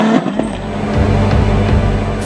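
Dakar 2024 rally cars roar close by, engines revving hard and rising in pitch as they race past, with a loud, continuous mechanical drone throughout.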